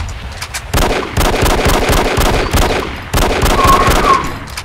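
Gunfire from the video game Send in Jimmy, loud dense bursts of shots in several rapid volleys that run almost without a break.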